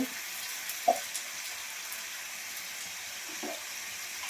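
Panch phoron spices fry in oil in a pan for a tilapia fish curry, a steady low sizzle throughout with a couple of faint knocks from a utensil.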